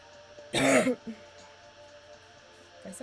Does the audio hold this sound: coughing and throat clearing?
yes